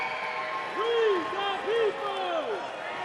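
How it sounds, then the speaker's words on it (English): A wrestling crowd chants and yells loudly during a Jack Swagger match, the cheering swelling in rhythmic waves over a steady roar, with a commentator's voice rising above the noise. "People yelling, "We the people.""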